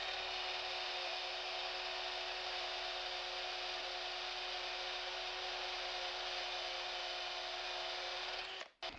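A Hilti cordless drill whirs steadily at a constant pitch for several seconds, then winds down and stops abruptly near the end.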